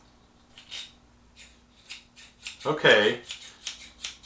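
Pair of scissors, freshly sharpened with a Swifty Sharp, snipping open and shut several times in a quick irregular run of crisp metallic clicks up close, with a brief spoken word in the middle.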